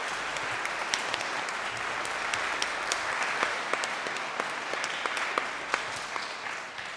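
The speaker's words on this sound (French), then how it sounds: "Je pense qu'on peut les applaudir." Crowd applause in a church for children at their first communion in Weitbruch, a steady sustained clapping from a fairly close congregation with sharp individual claps standing out, no talking.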